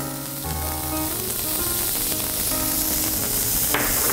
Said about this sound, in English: Add in our onions.